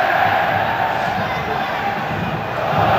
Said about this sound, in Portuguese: A torcida grita olé.